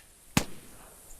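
A single sharp .22 calibre rifle shot during goose hunting, one sudden crack with a short decaying tail, fairly near, over quiet outdoor background, no talk.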